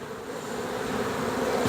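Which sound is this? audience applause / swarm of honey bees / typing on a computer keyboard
swarm of honey bees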